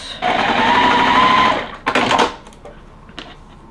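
A sewing machine stitches the center pieces of a Shoo Fly quilt block in one fast, humming run of over a second. Rustling fabric follows, then near quiet.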